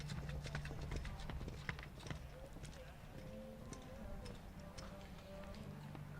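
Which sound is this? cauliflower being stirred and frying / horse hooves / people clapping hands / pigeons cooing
horse hooves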